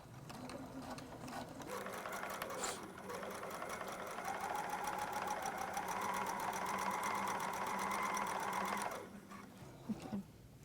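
Sewing machine stitching quilt strips for a Sweet Pea strip-pieced quilt, with one long steady whirring run near and moderately loud, starting and stopping with brief mechanical clicks.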